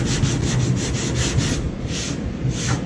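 Close, loud sanding of glazing putty on the body of a 1994 Ford Mustang GT, rapid rhythmic back-and-forth strokes in a crosshatch, continuous with brief pauses between passes.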